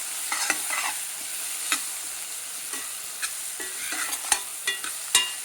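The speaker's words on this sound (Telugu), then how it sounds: "ఇప్పుడు కలపెట్టి బాగా కలియబెట్టి 2 నిమిషాలు వదిలేయాలండి" Tomato pieces with chili powder and salt sizzle softly in a pan for dal khichdi while a spoon stirs them, scraping and clinking in irregular bursts against a quiet frying hiss.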